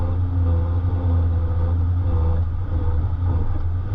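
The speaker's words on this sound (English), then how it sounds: "That vibrating sound is the Toyota factory snorkel. At certain RPMs, it did that." A Toyota's factory snorkel vibrates as the vehicle labors through thick, soft sand on a border track, a loud, steady low engine drone with a buzzing resonant hum layered over it throughout.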